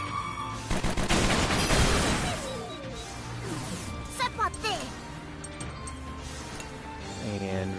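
A video game airstrike crashes in with a loud burst of rapid impacts and explosions that gradually thin out, followed by scattered whooshing effects and softer crackles against a steady background tone.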